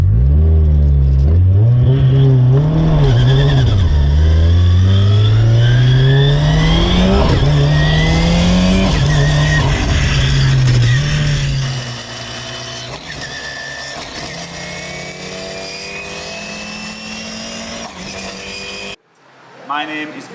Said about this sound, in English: Right, we're in Adam's 500 horsepower, rear wheel drive, Escort Cosworth.